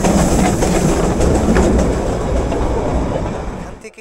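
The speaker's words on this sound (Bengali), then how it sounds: "এখানে সবথেকে আকর্ষণীয় জিনিস যেটা হচ্ছে টয় ট্রেন।" Darjeeling toy train running on its rails, a loud, close, continuous rumble and clatter of wheels that holds steady, then drops away sharply near the end.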